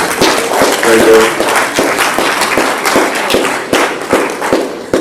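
Audience applause at a keynote event, a dense burst of close-range clapping that holds steady for several seconds with sharper individual claps standing out and a brief voice fragment near the start.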